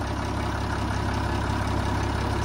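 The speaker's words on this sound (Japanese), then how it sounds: "エンジン始動でございます。" A forest railway locomotive engine on the Haga Forest Railway hums in a steady, unbroken drone, close and even throughout, with no voices over it.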